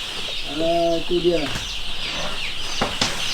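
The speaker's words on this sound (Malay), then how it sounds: "Ayam sihat yang kampung ya." Village chickens in a ventilated coop cluck and call, with one drawn-out rooster-like call near the start and scattered squawks and wing flaps after, while someone speaks over them.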